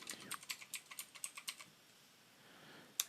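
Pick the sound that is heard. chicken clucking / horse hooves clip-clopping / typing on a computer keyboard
typing on a computer keyboard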